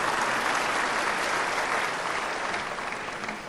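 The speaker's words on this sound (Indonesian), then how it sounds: "Tepuk tangan dong, saudara." A church congregation claps loudly at a sermon, a thick, continuous burst of many hands that stays strong and fades a little toward the end.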